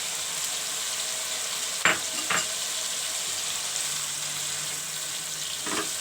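Fish karahi masala sizzles steadily in a pan with a constant frying hiss, broken by a few sharp scraping clicks as the mixture is stirred, with no talking.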